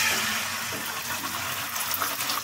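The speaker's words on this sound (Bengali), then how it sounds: "একটু পানি দিয়ে প্রেসার কুকারে ঢাকনাটা লাগিয়ে দিব।" Water pours into soaked chickpea dal in a pressure cooker, a steady hissing gush that stays close and fairly loud for the whole stretch, with no talking.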